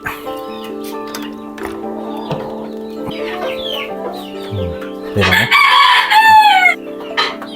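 Chickens cluck steadily on a small home farm while roosters crow loudly and close, the calls overlapping throughout.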